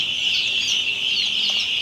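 A crowded brood of young guinea fowl chicks, kept as farm stock in Barpeta, Assam, peeps nonstop in a dense, shrill chorus that stays loud and even throughout, with no voices.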